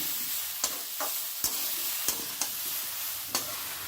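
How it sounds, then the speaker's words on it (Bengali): Jujube pickle with panch phoron and a little oil is stirred in a pan, with a faint sizzle underneath and a handful of distinct spoon scrapes against the pan at irregular intervals. "আমি মিনিট পাঁচেকের মতো নাড়ব"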